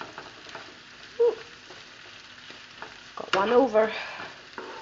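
Peanut biltong stew being stirred in a frying pot: soft, scraping stirs at a moderate distance, with a brief clatter near the start and a busier, louder run of scraping and light sizzle toward the end.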